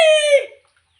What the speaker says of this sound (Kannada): ನಮ್ದು ಕೋಳಿ ಬಂತು